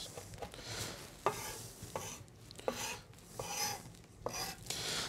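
A chef's knife mincing herbs on a cutting board: repeated soft rhythmic chopping and scraping taps, fairly quiet and close, with no talking.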